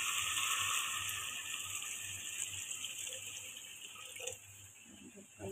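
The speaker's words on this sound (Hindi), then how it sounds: "अब हमने इसमें पानी शामिल करना है" Water from a tap runs steadily as it is poured into a pan of chana dal masala whose spices have been fried in oil, a continuous close splashing that tapers off near the end.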